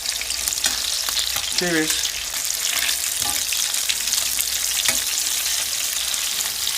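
Meatballs fry in a steel pan with a steady, close sizzle. Brief scraping and turning clatter and one short spoken word come through around the middle.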